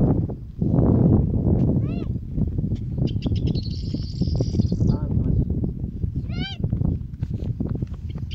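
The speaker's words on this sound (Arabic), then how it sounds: "صوت عصفور" Small bird chirping outdoors on a hunting trip in Harbata, Lebanon, with a couple of brief, clear chirps standing out above steady talk, alongside a higher thin trilling tone.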